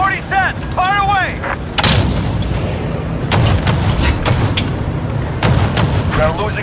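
Artillery barrage in Call of Duty Modern Warfare, with repeated heavy booms and thuds rolling through the clip, mixed with gunfire and shouting voices over the battle din.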